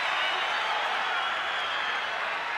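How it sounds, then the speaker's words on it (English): A dense, roaring stadium crowd at a 1998 North Queensland Cowboys versus Canberra Raiders rugby league match, a continuous loud wash of cheering and noise with no pauses. "This crowd noise is just unbelievable."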